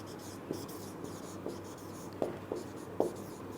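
Marker or chalk strokes on a classroom board during a physics lesson on speed, heard as soft, scattered taps and scrapes at irregular intervals, with a teacher's voice faintly present.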